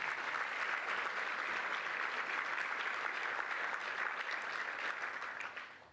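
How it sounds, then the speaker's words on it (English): Steady, dense applause from a crowd at a gala awards dinner, loud and sustained throughout before easing off at the very end. "Please give him a round of applause."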